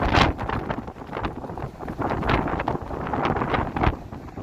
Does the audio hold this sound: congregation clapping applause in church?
no